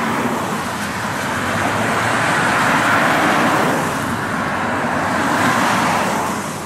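Steady roar of cars passing by on a road, loud and continuous with gentle swells as vehicles go past, no voices.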